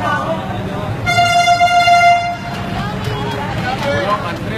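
A train horn sounds once, a loud sustained blast of about a second and a half, with people talking over it and around it.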